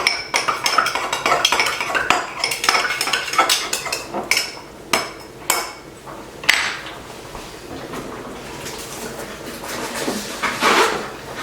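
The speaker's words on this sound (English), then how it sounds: "So I'm going to add some garlic powder to this and stir it up." A utensil stirs garlic powder into a bowl of garlic butter, with a run of quick clinks and scrapes against the dish, then a few sharper knocks and taps, close and loud with no talk.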